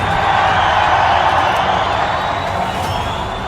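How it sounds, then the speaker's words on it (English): A wrestling arena crowd roars with a dense, sustained wash of cheering and whooping that eases slightly toward the end. "the roar of the crowd"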